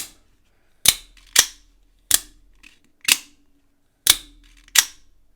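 An OTF automatic knife blade fires out and snaps back six times, each action a sharp, close metallic click separated by short silent gaps at an uneven rhythm.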